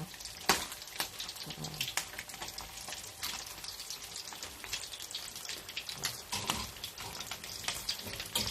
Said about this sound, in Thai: ทอดปลาสลิดทอดให้เหลืองนะคะ